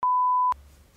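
A phone gives one loud, steady electronic beep lasting about half a second, which then cuts off to quiet room background.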